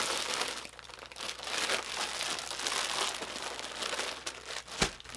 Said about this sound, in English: Sorry about the crinkles.